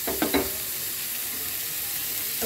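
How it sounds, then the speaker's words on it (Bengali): Pre-fried potatoes and cauliflower drop into hot oil in a pan and sizzle with a steady, bright hiss, with a few soft stirring knocks at the start and end. "এই আমি দিয়ে দিলাম ভেজে রাখা আলু আর ফুলকপি"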